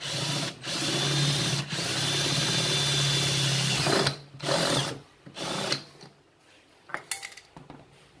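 A power drill bites into the rim edge of a paint can, whirring loudly in several bursts with short stops between, then tapering into quieter scraping and metallic clinks.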